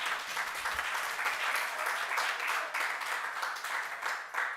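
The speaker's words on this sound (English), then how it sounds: "I give you a round of applause." Audience applause after a debate presentation, a steady wash of many hands clapping at moderate, fairly distant level that holds evenly throughout without a voice over it.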